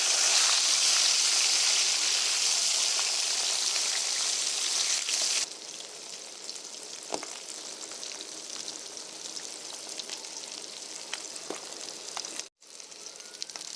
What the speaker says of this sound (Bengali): একদিকে মাছ ভাজা হয়ে গেছে, এবার উল্টে নেবো।